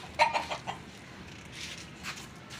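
Chickens cluck a few times, close and moderately loud, in a short burst near the start and then softer clucks from a flock kept alongside quail near a cage.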